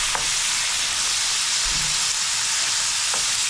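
Tofu with soy sauce is stirred in a hot pan, giving a steady broad sizzle with a few soft clunks from the stirring, close and fairly loud, no voices.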